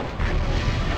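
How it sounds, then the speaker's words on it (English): Incoming weapon fire during a MechCommander battle: a dense, continuous low rumble of booming blasts and bursts filling the whole second, loud and close with no clear gaps. "Incoming fire."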